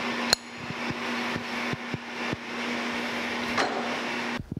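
A lathe takes very light cuts on a brass steam whistle valve part, giving a steady motor hum with scattered sharp clicks and taps before stopping abruptly.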